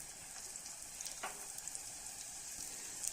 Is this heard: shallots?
yes